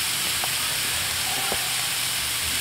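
Shaved beef fries in olive oil in a pan, giving a steady, loud sizzling hiss up close, broken by a couple of faint taps, with no voices.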